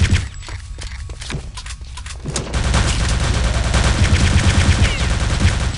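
Gunfire in Return to Castle Wolfenstein, the World War II shooter, inside crumbling catacombs: after a quieter opening with a few scattered shots, a dense, continuous burst of rapid fire takes over and stays loud to the end.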